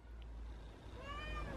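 A pet cat named Greta meows from her perch in a parked van's window, a single rising, wavering meow near the end, fairly close and over a steady low hum.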